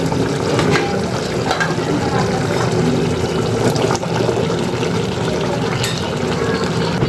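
Potatoes go into a pot of beef curry as it cooks: a steady close sizzle with wet stirring and scraping, broken by a few sharp clinks, with no talking.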